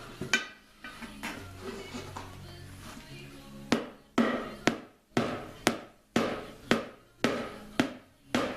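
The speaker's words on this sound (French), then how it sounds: "un marteau, on évite de taper sur la jante." A hammer taps a tyre being changed by hand, first in a few scattered light knocks over rustling, then a run of about ten sharp, evenly spaced strikes, close and loud.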